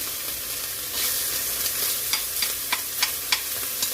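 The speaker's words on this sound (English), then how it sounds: "And we're gonna throw in our onions." Diced onions drop into a hot pot of oil and sizzle steadily, with a string of crisp scraping stirs and small spatula taps on the pot's rim.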